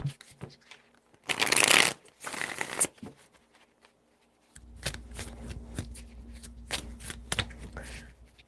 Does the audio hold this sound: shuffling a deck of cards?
yes